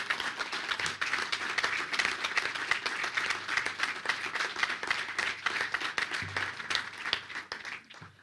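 An audience at a panel conversation applauds with dense, sustained clapping at moderate volume that tapers slightly toward the end.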